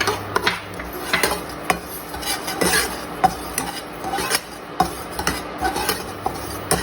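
Poppy seeds dry-roasting in a pan on a low induction setting, with a steady scraping stir of a metal spatula and repeated clinks against the pan, close and continuous.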